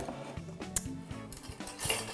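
Olive tapenade mixed with a spoon in a bowl, giving a short run of quiet metallic clinks and scrapes as the spoon knocks the dish, close and alone with no talk.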